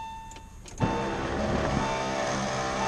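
A 1998 Porsche Boxster's electric convertible top runs after a short click, a steady motor whine with mechanical hum that continues evenly and close by to the end, with no talking.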